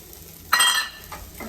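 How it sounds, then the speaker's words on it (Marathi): Soaked sago pearls tipped into a pan of peanuts frying in ghee, a short burst of sizzling and stirring that rises loud, then eases into fainter scraping with a soft clink near the end. "आता त्याच्यामध्ये मी हे साबुदाणे भिजवलेले आपले घालून घेते"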